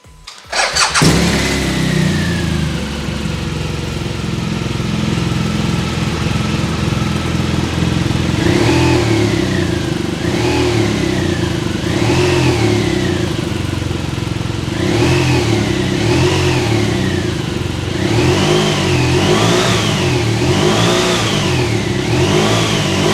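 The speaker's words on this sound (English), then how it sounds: "let's start this up and listen to it run" A BMW R1200RS motorcycle engine cranks and catches, then settles into a loud, close idle broken by a series of quick throttle blips that rise and fall in pitch, with several revs in a row near the end.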